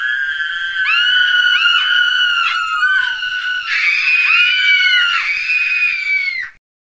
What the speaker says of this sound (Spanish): Ambas gritan del dolor.